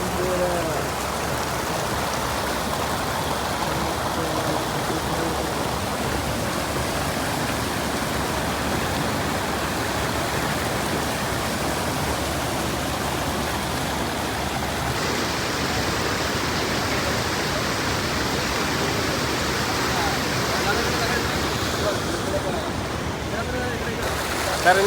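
Water pours over a small weir on the Kaloshi dam during monsoon rain, a steady, dense roar of rushing flow that stays loud and unbroken throughout.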